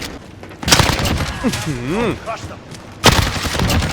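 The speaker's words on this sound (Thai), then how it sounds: "ปืนซอยิงกระสุนออกมาเป็นเลือด" In a Call of Duty game, a Saw-themed gun fires blood bullets: a loud burst of rapid shots, then a pause filled with a talking voice, then another burst.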